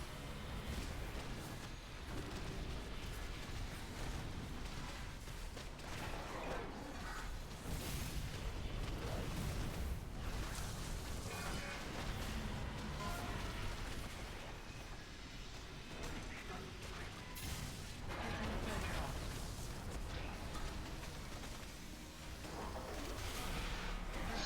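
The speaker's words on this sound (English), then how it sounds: "another set of bombs" Bombs go off during a heroic boss fight in Sepulcher of the First Ones, a dense roar of explosions, booms and pops layered with music and effects that runs steadily loud throughout.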